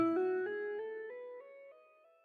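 Notes on a Korg keyboard patch set to normal legato glide smoothly into one another in a rising line with no gaps, fading gradually over about two seconds, played alone.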